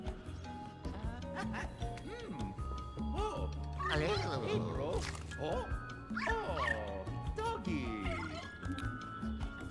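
A dog barks and yips in the Luigi's Mansion 3 video game, with short bursts over game music and someone talking.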